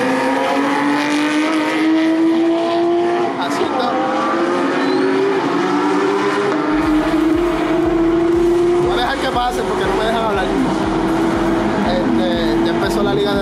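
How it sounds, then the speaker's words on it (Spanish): Porsche race cars speed past on a racing circuit during a championship event, engines droning loud and close with rising and falling pitch as each car passes, tires squealing briefly, with voices talking faintly underneath. "Ya empezaron a correr los Porsche, como pueden ver, como una liga aparte para ellos."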